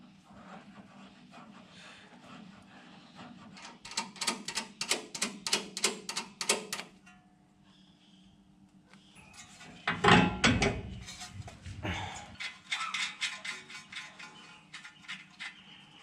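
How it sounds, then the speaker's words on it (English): New inner tie rod end being wound onto the steering rack of a Toyota Hilux, giving bursts of rapid ratcheting clicks and metallic rattling with a pause between, close up and moderately loud, no speech. "if I wind this new tie rod end up to this mark here"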